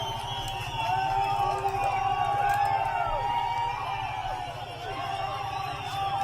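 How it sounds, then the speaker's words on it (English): Massive crowd of protesters in Iran, a dense roar of voices with chant-like rhythmic pulses and wavering shouts, sustained and fairly loud, with a low mechanical hum underneath. "Massive crowds."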